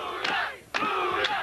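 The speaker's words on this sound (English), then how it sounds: "Crowd solidly behind Luna Vachon" A wrestling crowd at an ACW show roars and chants in support of Luna Vachon, with loud surging cheers and shouted bursts swelling in three waves across the arena.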